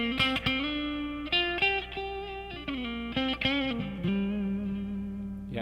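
An electric guitar plays through a Fender 68 Custom Deluxe Reverb amp with added reverb: a series of sustained, slightly distorted chords and notes ringing with a washy tail.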